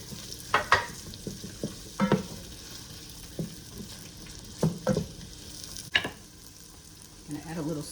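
Peppers and onions fry in melted butter for clam chowder, a soft sizzle under repeated scraping and stirring clatters from a utensil in the pan, close by.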